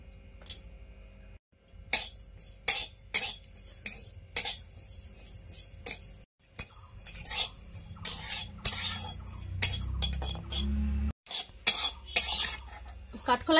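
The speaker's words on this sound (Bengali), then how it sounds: "এবারে কাঠখোলাই আমি ভেজে নেব গোটা জিরে আর এলাচ" Whole cumin seeds and cardamom pods being dry-roasted in a wok, with repeated sharp scraping and clinking of a metal spatula against the pan, coming in irregular bursts, close and moderately loud, with a low rumble partway through and no speech.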